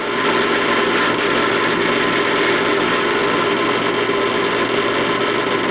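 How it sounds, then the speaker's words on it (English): Steady, loud power tool whine runs without a break, a close drill grinding through knife handle scales for a karambit with a constant buzzing drone. "drill from this side and get all three sections drilled"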